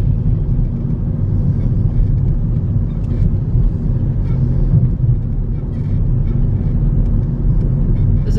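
A car drives down the road into Sennen, Cornwall, on a cold, windy day. A steady, loud low rumble of engine and road noise fills the cabin throughout, with no talking.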